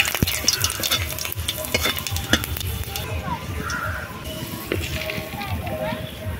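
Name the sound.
frying garlic and cumin in mustard oil in a wok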